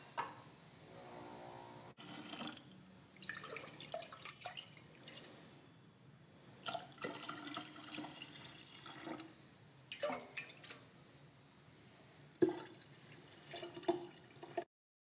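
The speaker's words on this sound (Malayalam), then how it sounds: "നന്നായിട്ട് മിക്സ് ചെയ്ത് നമ്മൾ റെഡിയാക്കുന്ന ബോട്ടിലിൽ ഒഴിച്ചു കൊടുക്കാം" Homemade carrot ginger wine mixed with yeast is poured into a bottle at home, giving soft trickling and dripping splashes in intermittent bursts, close and fairly quiet, with no talking.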